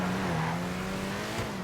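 A car engine in GTA V Online hums at a steady, droning pitch, a sustained mid-level tone with a slight shift partway through, with no voices.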